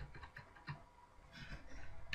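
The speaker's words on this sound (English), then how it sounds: "I'm typing it one-handed for some reason" Soft, irregular clicking of keys being tapped on a computer keyboard, quiet and close, with a few brief pauses between bursts.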